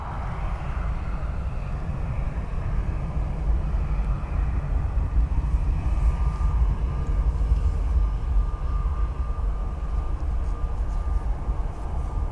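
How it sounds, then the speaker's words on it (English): A British Airways Airbus airliner at Dublin Airport produces a steady, continuous broadband engine roar at moderate distance, holding level throughout with a faint tonal whine, and no voices over it. "Another BA Airbus."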